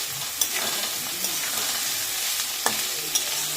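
Onion frying in a pan for a shahi chicken curry, a steady close sizzle with occasional spoon scrapes as it is stirred, loud and continuous without talk.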